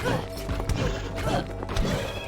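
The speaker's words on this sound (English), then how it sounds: "Headless horse." A headless horse in the video game Rogue Legacy gives a neigh mixed with thumping hoofbeats and game clatter, a short busy burst at moderate loudness.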